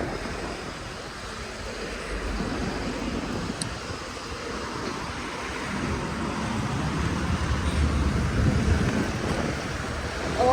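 A cool autumn wind blows outdoors in New Zealand, a steady broad rush that buffets the microphone and builds slightly toward the end. No one speaks.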